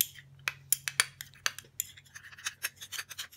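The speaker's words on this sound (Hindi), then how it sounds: "और इसे मिक्स करेंगे।" A utensil scraping and clinking against a small bowl while mixing homemade face cream with vitamin E oil, irregular close taps and rubs, fairly quiet over a low hum.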